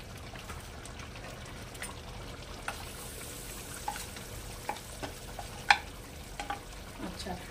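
Butter sizzles on a hot tawa over a gas flame, a steady close crackle with sharp pops and spits here and there, no talking over it.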